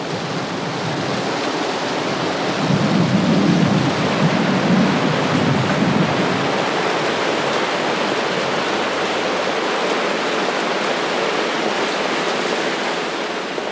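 Heavy, steady rain roars as a dense wash of noise, with a deep low rumble swelling near the start like distant thunder, no voices.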